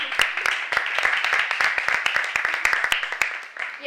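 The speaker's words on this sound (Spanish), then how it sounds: "Un fuerte aplauso." A live audience at a charity art event applauds in a dense, steady burst of many hands clapping at close range, lasting several seconds before thinning slightly at the end.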